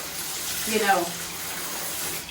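Water pours onto potted plants during a watering session, a brief splashing gush rising and fading in a close, hissy setting.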